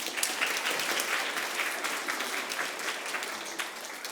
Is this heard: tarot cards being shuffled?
no